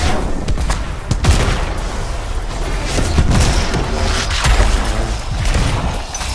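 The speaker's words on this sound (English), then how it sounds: "There was a lot of explosions right there." Loud, dense explosions and booming gunfire in the video game Anthem, heavy low-end blasts and crackling bursts overlapping continuously with no talk.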